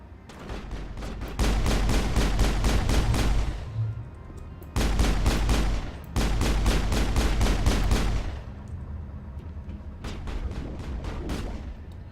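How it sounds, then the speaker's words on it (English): Bursts of rapid automatic gunfire in Mass Effect, several loud rattling volleys separated by short pauses, then quieter trailing shots at the end, with no one talking. "Who are you shooting at?"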